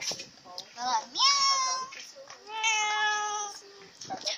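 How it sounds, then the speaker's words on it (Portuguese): A cat meows indoors, close and clear, with two long drawn-out meows and a few shorter chirps and calls around them. "Tem um gato aqui."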